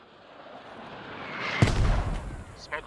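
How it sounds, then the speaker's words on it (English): A mortar round lands in a military shooter game, a sudden loud, deep boom breaking out of a rising hiss, followed by a rumbling tail and a couple of smaller distant thuds. "Those mortars could have hurt him more."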